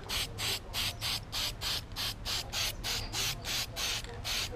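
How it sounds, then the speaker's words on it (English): Rapid bursts of aerosol spray from a Plasti Dip can outdoors on a car wheel, about a dozen short hisses in a steady rhythm, close and fairly loud with no talking. "while you're busy spraying outside"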